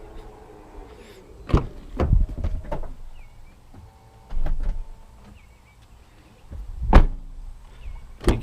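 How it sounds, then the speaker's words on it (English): Doors of a red 2016 Toyota RAV4 with the technology package: several solid thuds and clunks spread out in time, the last one the loudest, with faint mechanical whirring in between. "You can feel the quality when you shut the door."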